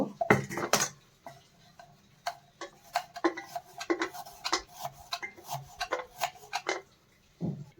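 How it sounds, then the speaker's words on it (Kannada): A knife slices an onion lengthwise on a board, giving a series of sharp close cuts and crisp taps in an uneven rhythm, with brief pauses and light rubbing between strokes. "ಈಗ ಆನಿಯನ್ನು ಕಟ್ ಮಾಡಿ ಈ ಥರ ಆನಿಯನ್ನು ಉದ್ದುದ್ದಕ್ಕೆ ಹಚ್ಕೋಬೇಕು"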